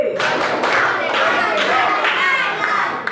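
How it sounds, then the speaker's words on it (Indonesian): Classroom of children doing a rhythmic concentration clap, bursts of group hand claps in a steady pattern with young voices mixed in, close and loud throughout. "tepuk konsentrasi."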